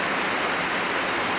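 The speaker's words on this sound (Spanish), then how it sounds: "Y ya empezó a llover." Rain falling outdoors, a steady dense hiss of drops with no voices, uniform and fairly loud throughout.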